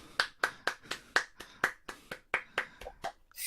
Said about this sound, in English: We make an applause to Pau.